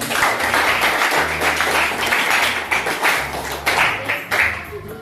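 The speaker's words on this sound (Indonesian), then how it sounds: "Tepuk tangan ini." A sixth-grade primary school class in Indonesia claps hands together, loud and dense, with a low hum beneath and the rhythm breaking into more distinct claps toward the end.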